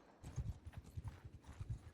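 Horses gallop in the video game Mount & Blade II: Bannerlord, a rhythmic run of hoofbeats thudding in a steady beat, fairly faint, with no talk over them.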